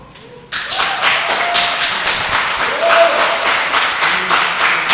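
A church congregation bursts into applause after a quiet opening, sustained close clapping with rhythmic pulses and scattered thumps that continues to the end.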